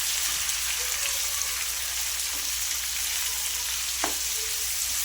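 Medium onions frying in a pan, a soft, even hiss that holds steady throughout, with one faint clink partway through and no voices.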